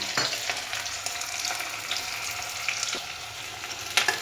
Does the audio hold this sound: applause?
no